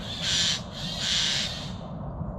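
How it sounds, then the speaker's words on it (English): Two harsh, rasping magpie calls in quick succession, fairly close, then quiet outdoor background by a pond. "Magpies having an argument."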